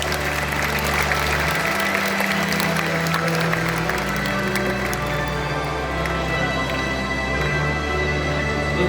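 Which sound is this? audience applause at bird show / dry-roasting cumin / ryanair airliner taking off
audience applause at bird show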